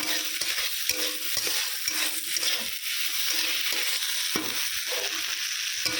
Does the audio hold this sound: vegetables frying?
yes